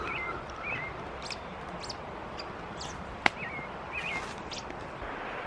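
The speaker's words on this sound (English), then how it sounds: "I love how you can hear the birds and the water." Outdoors, birds give faint scattered chirps and short calls over a soft, steady wash of water, with one sharp click partway through.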